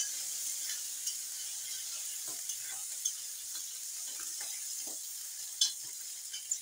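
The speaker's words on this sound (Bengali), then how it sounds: "শুটকিটাকে এখন লাল করে ভেজে নেব বন্ধুরা।" Salted dried fish fries in a pan with a soft, even sizzle and a few light taps of a spatula, fairly quiet and steady with no voices.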